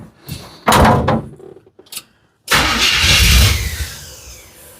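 A 1969 Chevelle engine cranks in brief bursts with a clunk between, then catches and roars into a loud, rough idle close by, filling the last couple of seconds.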